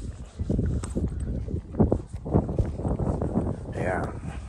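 Horse hooves clop along at a steady walking pace in Clarens, mixed with people talking and some wind buffeting the microphone.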